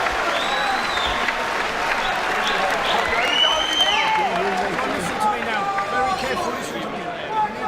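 An Essex boxing crowd at a Tyson Fury versus John McDermott fight roars and claps after a round, a sustained wash of cheering and applause with chatter mixed in throughout.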